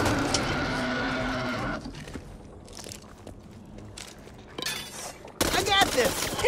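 Gunfire in Back 4 Blood, a dense burst of rapid shots at the start, then scattered sharp cracks and impacts with quieter gaps, ending in another loud chaotic burst.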